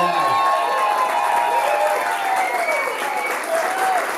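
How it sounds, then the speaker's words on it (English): Applause and cheering from a crowd at a bar event at the Howling Dog, clapping dense and steady throughout, with shouts and whoops over it. "Let's give him a big round of applause."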